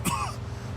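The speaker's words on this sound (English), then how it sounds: "Every time I cough, it feels like I'm being stabbed in the chest." A man in a Mafia II cutscene gives a single short, rough throat-clearing cough, close and clear, followed by quiet background hum.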